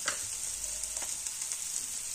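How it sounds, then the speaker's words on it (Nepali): Finely chopped onion fries in a pan with a continuous bright sizzle, close and steady, broken by a few soft clinks and scrapes of stirring. "अब प्याजलाई धेरै बेर पनि फ्राई गर्नु पर्दैन, एकैछिन फ्राई गर्नुपर्छ एक दुई मिनट।"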